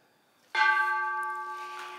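A single strike of the Peace Bell at the United Nations rings out clearly, a sudden metallic clang that settles into a long, sustained tone slowly fading.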